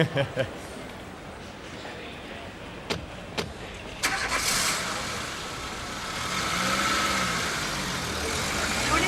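Taxi car engine cranks and starts, then settles into a steady idle, heard close and fairly loud with a brief background voice before the start.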